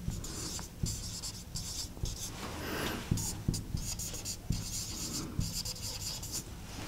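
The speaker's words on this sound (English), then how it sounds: "So let me just write that down" Handwriting on a board or paper during a control systems lecture, with scratchy pen strokes coming in short, irregular bursts, close and clear, and no talking over it.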